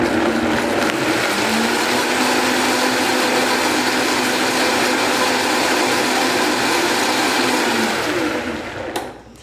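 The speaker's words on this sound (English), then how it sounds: "I'm a fan of the Vitamix blender" A Vitamix blender runs at full power blending a smoothie bowl, a loud, steady motor whine with a churning roar that holds constant for several seconds, then winds down and stops near the end.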